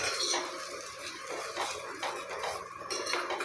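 A spoon scrapes and clinks in a pot as coconut oil is mixed in for a hair oil preparation, a continuous close clatter and swish with no talking.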